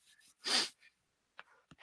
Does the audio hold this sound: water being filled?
no